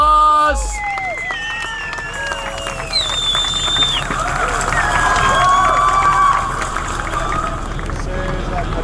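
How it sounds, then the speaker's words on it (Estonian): A crowd at a quarter-mile drag race cheers and applauds, a steady wash of clapping with whistles and shouts rising over it, loud and close throughout. "Aplaus rahvas!"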